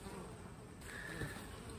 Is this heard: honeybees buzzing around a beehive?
yes